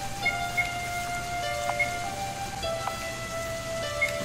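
The Rain of Death attack in the video game Last Dream: World Unknown plays as a steady, rain-like hiss with soft tonal chimes and a few light pings scattered through it.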